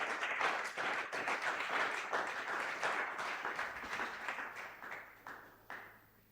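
A congregation at a Sunday praise and thanksgiving church service applauds with dense, sustained clapping that holds steady and then gradually thins and fades, heard from a moderate distance.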